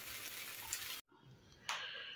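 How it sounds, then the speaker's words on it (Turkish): Bread with egg and cheese fries in a pan, giving a steady, close hiss of sizzling that cuts out for a moment and then returns with a brief louder burst of spitting. "Ekmeklerimi şimdi kızartıyorum. İçerisinde yumurta, ekmek, bir de peynir var."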